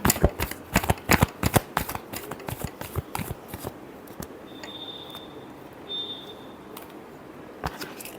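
Tarot cards are shuffled with a rapid flurry of crisp, riffling snaps up close, then the handling slows to sparse taps, with a faint tone near the end.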